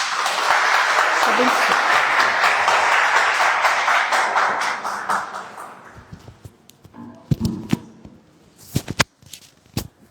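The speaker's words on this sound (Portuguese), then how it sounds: "as palmas louvam o Senhor" A church congregation applauds with loud, dense clapping for about six seconds before it fades out, leaving a few scattered taps and a brief spoken word.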